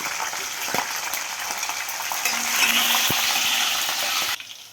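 Green chillies and tempering seeds frying in hot oil on a stove, a steady close sizzle with occasional stirring clicks, rising slightly midway before cutting off near the end.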